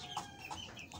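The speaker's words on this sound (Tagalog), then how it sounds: "Pakain natin yung ating sisiw" Young chicks peep and cluck in soft, repeated high chirps at close range while being fed a mix of rice and Quaker oats, with faint farmyard background and no talking.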